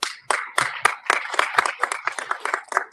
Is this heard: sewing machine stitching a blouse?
no